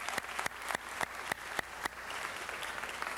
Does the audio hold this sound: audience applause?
yes